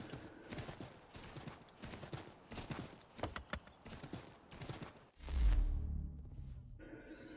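Horse hooves clip-clop in a stream of rapid, uneven beats in Assassin's Creed III, then break into a brief louder whoosh near the end before settling; no talk.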